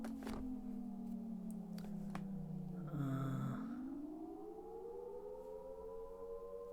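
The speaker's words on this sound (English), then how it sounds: "In the distance, sirens blare." A siren in a video game wails in the distance, a long steady drawn-out tone that dips and then rises again in pitch, faint but continuous with no voices over it.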